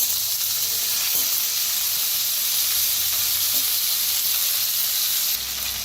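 Chopped onion and spring onion fry in hot oil with mustard seeds, cumin and asafoetida, giving a loud, close, steady hiss and sizzle that continues unbroken, easing slightly in the final moment.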